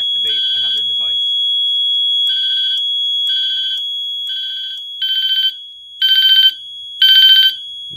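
The horn of a Fenwal 3220 fire alarm panel beeps in repeated pulses during a halon system test, growing louder in the final bursts, steady and piercing with no talking.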